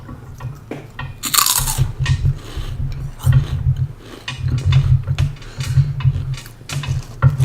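Crunchy Bugles-like corn snacks are bitten and chewed close up, with repeated loud crisp crunches in bursts separated by brief pauses, and no talking.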